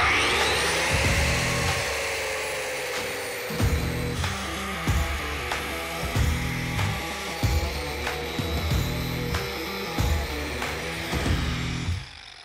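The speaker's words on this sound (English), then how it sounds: "so I'll start grinding." A handheld power grinder works on metal to clean and smooth it before welding, running loudly and steadily throughout with rhythmic pulses of grinding contact and no talk.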